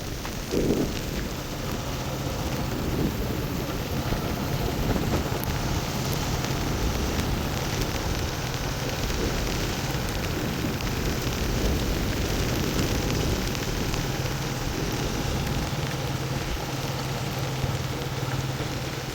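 Steady, dense rain pouring down without a break during a cyclone on Punkudutivu island, Sri Lanka, a constant hiss with a low rumble underneath, moderately loud and unchanging.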